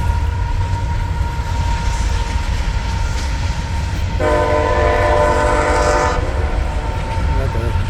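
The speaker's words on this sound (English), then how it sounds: "I guess there's a train somewhere." A train rumbles steadily nearby, heard from a junkyard, with a low continuous roar, and its horn sounds a sustained chord for a couple of seconds midway.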